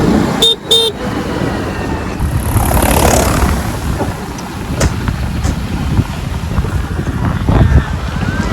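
A motorbike ridden on the way to a temple gives a steady, loud, close engine drone with rushing wind, and a horn sounds briefly near the start.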